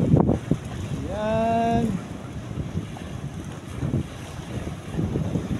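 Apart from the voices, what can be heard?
strong wind at a floating cottage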